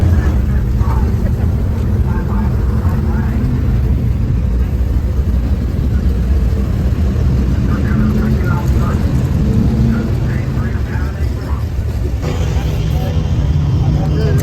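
A race car runs a ten-lap heat race at Midway, a loud continuous engine roar rising and falling as the car circles, with no breaks over the whole stretch.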